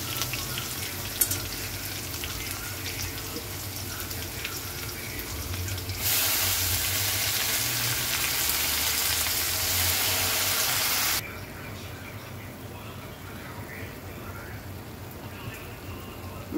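Moringa leaves added to onions sizzling in a pan, a soft steady frying hiss that swells louder for several seconds in the middle, with no one speaking.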